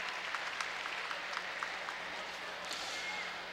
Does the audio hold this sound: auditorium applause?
yes